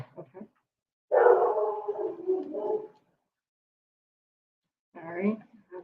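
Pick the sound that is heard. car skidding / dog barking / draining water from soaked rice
dog barking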